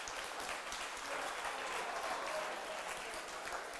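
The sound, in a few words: audience applause at motorcycle dealer event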